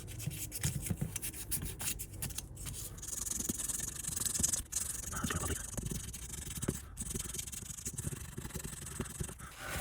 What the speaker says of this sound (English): A cloth, and just using again the electrical contact cleaner.